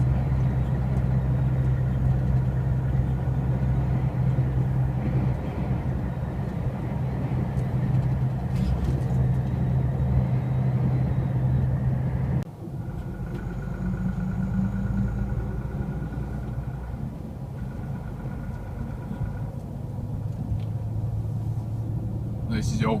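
A truck drives through the old town of Uk-Barcelona with a steady low engine drone and rumble throughout, while someone talks over it.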